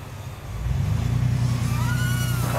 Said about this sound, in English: Oh, it's a truck over there.